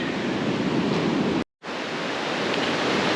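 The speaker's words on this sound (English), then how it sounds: "a chill day now at the beach, listening to those glorious waves" Ocean waves roll onto the beach at Leo Beach in the Philippines, a steady loud broadband surf roar broken by a brief dropout before it resumes.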